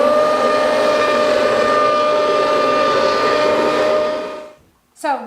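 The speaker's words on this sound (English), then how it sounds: "Then I use my immersion blender here just to get it going because that peanut butter takes" An immersion blender mixes peanut butter into soup with a loud, steady whining drone that cuts off near the end, followed by a brief voice.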